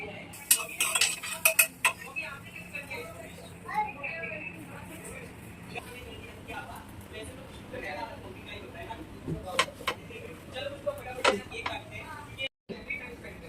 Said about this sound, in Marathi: तर चला इथे आता बटर लावून हे भाजून घेते मी.